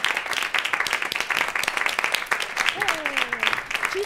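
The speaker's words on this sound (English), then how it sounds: "let's have a big round of applause and welcome out our panelists" Audience applause welcoming panelists onto stage at a community event, busy continuous clapping with a few cheers and whoops rising over it near the end.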